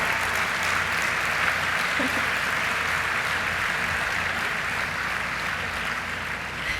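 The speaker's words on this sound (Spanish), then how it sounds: "un aplauso, padres y abuelos" A large audience applauds parents and grandparents at a UDEM university graduation ceremony in 2017, a dense, sustained clapping roar filling the hall with no break.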